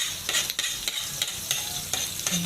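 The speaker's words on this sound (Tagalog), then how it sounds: "And now we're going to saute." Onion and garlic sautéing in a little oil in a frying pan for a simple chopsuey, with a steady near sizzle broken by several sharp stirring scrapes at a regular rhythm, no talk.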